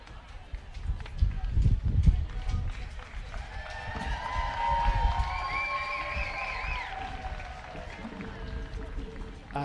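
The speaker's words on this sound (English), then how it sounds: "giving the England a good round of applause as they go into the changing room" A home crowd at an England versus U.S.A. summer series match applauds and cheers as England leave the field at half time, a steady mid-distance clapping and cheering that runs through the whole stretch, with some talk mixed in.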